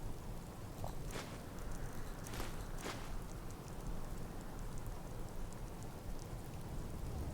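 Steady rain pours in a Skyrim video game scene, a constant hiss with a few soft thumps from drops, unbroken and fairly quiet throughout.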